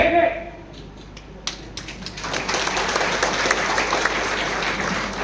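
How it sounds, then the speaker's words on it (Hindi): An audience at a political speech breaks into clapping after a speaker's voice, and the applause quickly swells into steady, dense clapping that fills the room. "आप लोग ताली मार रहे हैं यहां में"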